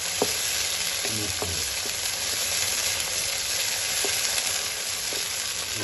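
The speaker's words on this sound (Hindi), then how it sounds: "अब हमने टमाटर और मिर्चों को इसमें डाल देते हैं और इसको हमने 4 से 5 मिनट इसकी बनाई कर लेंगे" Chopped tomatoes and green chillies frying in hot oil in a pan, a dense, steady sizzle with occasional light scraping of a spoon against the metal, close and continuous with no talking.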